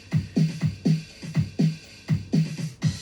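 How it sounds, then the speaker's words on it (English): An electronic drum machine pattern plays inside a music track, with punchy repeated low hits in a quick, steady groove, moderately loud and alone without speech. "If you copied and pasted the auto drumming into here,"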